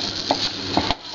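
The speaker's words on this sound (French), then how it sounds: "nous allons mettre à peu près 30-40 grammes de farine d'un bloc. Voilà, on est parti, on mélange" A wooden spoon stirs flour into a pot over gentle heat, giving a steady close-up scraping with a few soft knocks against the pan.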